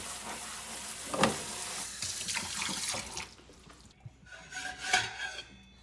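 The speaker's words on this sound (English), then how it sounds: "Just gonna run some cold water over it." Cold tap water gushes over cooked pasta in a sink, a splashing, hissing stream with wet clattering and rubbing as the pasta shifts, fading briefly before a final surge of water; close by, with no speech.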